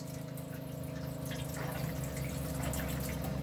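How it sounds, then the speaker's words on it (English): The water pump of a 2018 Elddis Xplore 422 caravan running as a tap opens, a faint steady hum with low tonal drone and soft watery hiss that swells slightly midway. "You have your water pump switch, which allows the water pump to turn on so the water can come inside the caravan."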